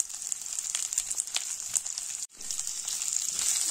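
Rice fries in ghee in a pan with a close, steady crackling sizzle, broken by a brief pause of stirring.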